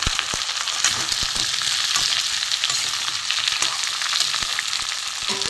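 Fried pointed gourd pieces go into a hot pan of oil with tempered spices and potatoes, giving a close, steady sizzle punctuated by scattered clicks and scrapes of stirring.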